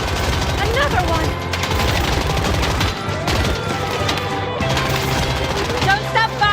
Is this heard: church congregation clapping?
no